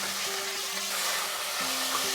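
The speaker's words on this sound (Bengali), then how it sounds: "পেঁয়াজের সঙ্গে এবার মাটনটাকে কিন্তু ভালো করে কষাবো মিডিয়াম আঁচে" Mutton frying with onions over medium heat: a dense, steady sizzle with a faint low hum beneath, continuous and close, no talking.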